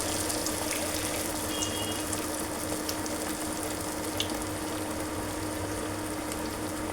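Radish vadas made from a black-eyed pea batter fry in hot oil with a steady, dense bubbling hiss, continuous and fairly close, with no voices over it.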